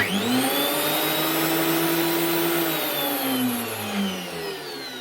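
A DeWalt DW733 thickness planer fitted with a new drive belt runs with a steady, loud motor whine and hum whose pitch drifts slightly, with no speech.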